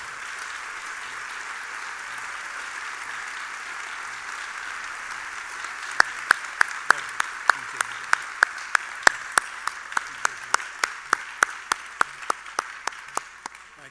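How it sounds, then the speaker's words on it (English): Applause at a university forum greets student government representatives, with a crowd's broad wash of clapping and sharp, distinct individual claps ringing out clearly from the midpoint onward, spaced in a fairly regular beat. "join me in a more robust round of applause for these gentlemen"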